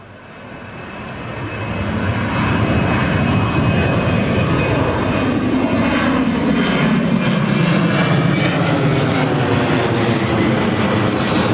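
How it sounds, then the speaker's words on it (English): A TUI Airways Boeing 737-800 jet airliner passes on the runway at Newcastle Airport, its engine roar swelling quickly from moderate to loud and holding as a broad, powerful rumble. "here comes the TUI Airways 737-800"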